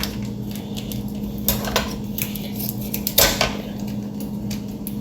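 A spoon stirs ketchup through a lechon manok mixture in a pan, giving scattered metallic scrapes and clinks over a low steady background hum.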